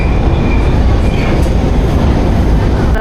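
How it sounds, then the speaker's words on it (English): A London Underground tube train pulls into a station with a loud, steady rumble and rolling rail noise, a faint squeal of wheels coming through briefly near the end. "I think our tube is here as well."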